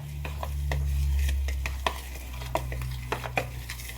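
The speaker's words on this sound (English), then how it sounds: "So now we'll just mix all of this together." Granola ingredients with protein powder are stirred in a bowl, with a spoon scraping and tapping against the sides in irregular bursts over a low background hum.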